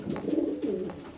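A racing pigeon coos in a loft. The coo is a soft, low, throaty sound that rises and falls twice, close by over faint background hiss.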